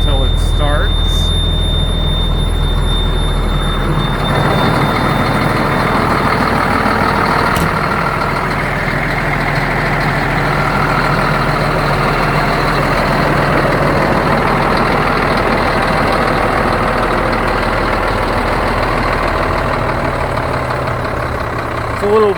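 A 7 ton MTVR military truck diesel engine cranks and catches, then settles into a loud, steady rumbling idle with a warning buzzer tone at the start; close and continuous throughout.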